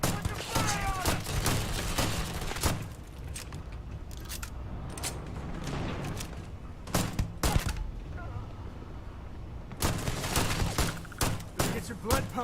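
Sci-fi gunfire in a Starfield firefight, dense rapid bursts of shots with sharp cracks and thumps continuing almost throughout, loud and close over a busy game soundscape.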